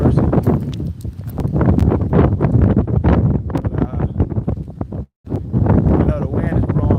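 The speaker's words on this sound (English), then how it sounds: "The wind is blowing real bad out here." Strong gusts of wind buffet the microphone outdoors, a constant low rumble with rustling peaks that nearly fills the clip, broken by a brief dropout near the end.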